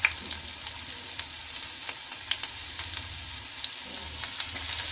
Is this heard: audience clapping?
no